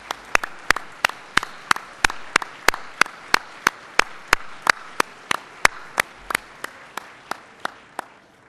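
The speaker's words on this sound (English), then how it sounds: "giving them, an extraordinary individuals, a round of applause" Audience at an awards gala claps in a steady run of sharp, distinct hand claps, loud and close, rhythmic throughout with no talking.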